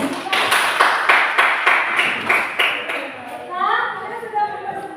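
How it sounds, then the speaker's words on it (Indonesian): A small group of teachers clapping for a presentation group in a school coaching session, roughly a dozen distinct claps in loose rhythm, then fading as voices talk over the end. "Tepuk tangan untuk kelompok."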